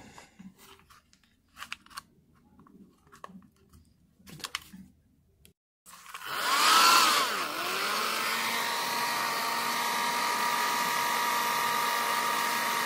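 A hot air blower switches on after some faint handling clicks and runs with a steady loud whooshing hiss and whine while heating a patch, close up.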